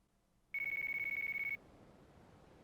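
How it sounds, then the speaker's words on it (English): In the video game Yakuza: Dead Souls, a phone rings with a single sustained electronic trill, loud and steady for about a second before cutting off into quiet room tone. "Oh, phone call."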